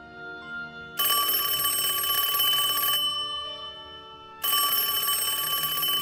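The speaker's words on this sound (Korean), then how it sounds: "프론트에 있는 전화벨 소리가 울렸고" An electronic front-desk telephone rings in two long bursts separated by a short pause, clear and fairly close, with no voices.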